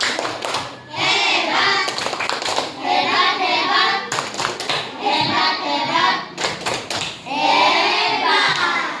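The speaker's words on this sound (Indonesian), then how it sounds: "Iya, tepuk hebat buat kelompok 1." A classroom of students doing a rhythmic group clapping cheer for the first presenting group, patterned claps and slaps in bursts mixed with children's chanting voices, loud and close.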